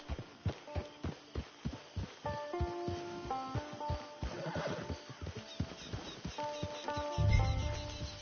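Steady hoofbeats clip-clop in an even rhythm, followed by a loud horse whinny and snorting, with music playing underneath throughout.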